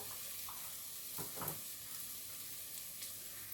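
Fried onion, ginger and garlic sizzle softly in a pan as cumin powder goes in, a quiet continuous frying hiss with a couple of brief stirring scrapes in the middle.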